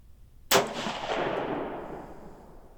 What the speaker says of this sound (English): I love my single-shot action rifle, and the one-shot challenge it gives me.